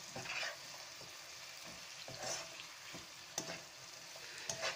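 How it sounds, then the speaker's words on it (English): Cut bottle gourd branches fry in a pan while being stirred, a soft sizzle broken by a few scraping stirs and light clatters, fairly quiet and close. "Stir a bit."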